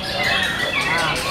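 A white-rumped shama sings at a bird song contest, a brief run of bright, rapid whistled notes close to the listener.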